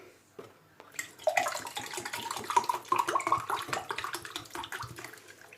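Vinegar pours and splashes steadily into a model volcano for several seconds after a brief quiet start, a bubbly, gurgling stream close by.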